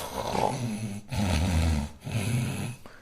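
A person imitating snoring with three drawn-out, rumbling snorts, close and fairly loud, separated by short pauses.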